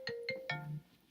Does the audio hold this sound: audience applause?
no